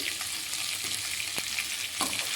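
Ivy gourd (kovakkai) sautés with rock salt in a pan, giving a steady close sizzle with a few soft scrapes of the spatula and no talk.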